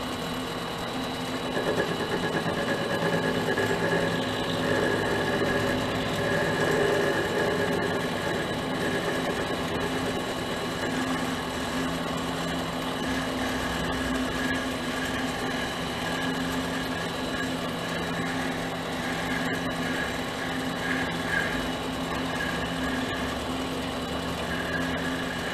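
A mini lathe runs at around 500 to 600 RPM, giving a steady mechanical hum with faint rattling that holds throughout, close by and moderately loud.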